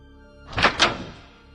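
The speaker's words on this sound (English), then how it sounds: "I heard the bedroom door open." Two quick wooden knocks close together as a bedroom door opens at night, in an otherwise quiet room.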